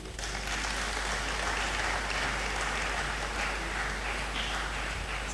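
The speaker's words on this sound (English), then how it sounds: "let's keep the applause" An audience at a university anti-drug campaign launch applauds: continuous, full clapping that holds steady throughout with no voices on top.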